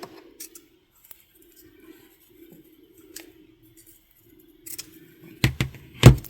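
Scissors trim ribbon on a knitwear botanical sachet, with faint rustling followed by a couple of crisp, close snips near the end in an otherwise quiet room.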